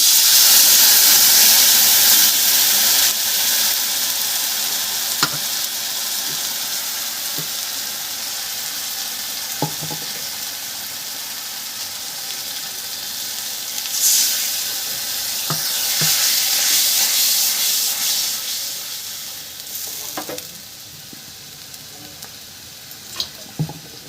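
Spices tipped into onions already frying in a pan for Bengali rui fish kalia set off a loud, steady sizzle that gradually eases, with a few sharp clicks of stirring along the way.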